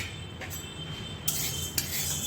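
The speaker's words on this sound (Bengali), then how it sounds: "এখানে মুগের ডাল আমি শুকনো কড়াইয়ে ভেজে নিচ্ছি।" Moong dal dry-roasting in a dry kadai, a soft steady rustle with two brief scraping strokes of a spoon against the pan, close and fairly quiet, with no talking.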